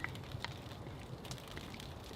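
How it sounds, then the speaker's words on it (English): Freezing rain patters and ticks on a tent during a winter snow camp, with soft, irregular crackling taps over a steady faint hiss. "I can hear the old ice rain now on the tent."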